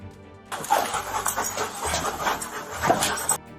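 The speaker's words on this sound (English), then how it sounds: "The dog sniffs out a suspect in the house" A police dog pants and sniffs in quick breathy bursts, close by, for a few seconds, searching a house for a suspect.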